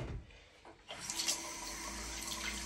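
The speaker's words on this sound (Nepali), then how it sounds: "पानी कहिले खुल्दै छोडेर गएछ फेरि" A water tap left running into a sink, a steady rushing stream that swells after a brief quieter moment and continues alone at close range.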